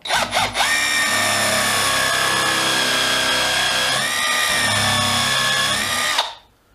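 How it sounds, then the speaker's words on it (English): A Milwaukee impact driver fitted with a 12 mm countersink bit cuts into wood for a stair runner, giving a loud, close, high whine that holds steady for about five seconds after a couple of brief starts, then stops abruptly. "Then with our Milwaukee impact driver, which has got a countersink"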